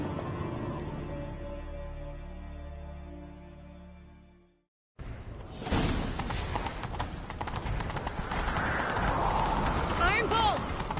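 Horses in a video game set off at a gallop after a sustained musical tone cuts out, hooves pounding in a rapid clip-clop under continuous rushing motion, loud and close.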